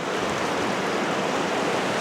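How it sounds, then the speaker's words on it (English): A dense, unbroken rush of water from the Sandy River on Mt. Hood's snow-covered Timberline Trail, close and loud throughout with no other sounds. "Alright, we're back at the Sandy River."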